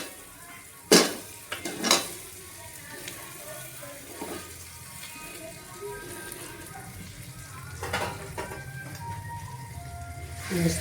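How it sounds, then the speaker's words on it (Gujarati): Potatoes fried and stirred in a pan seasoned with garam masala, amchur and red chilli powder for kachori filling: a steady low sizzle with two sharp utensil scrapes near the start and more stirring clatter later, close by. "આપણે બટેકા નાખી દઈશું."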